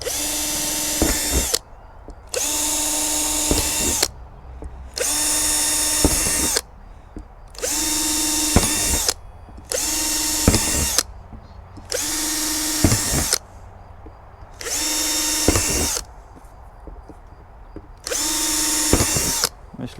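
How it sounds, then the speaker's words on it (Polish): A power drill bores a few holes through the plastic lid of a garden rain-water barrel, heard close up as about eight loud, steady bursts of whirring, each a second or two long, separated by short pauses. "Dziurek przewiercę sobie dosłownie kilka"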